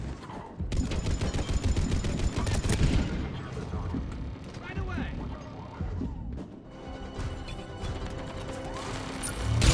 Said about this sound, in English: Туретка больно бьет.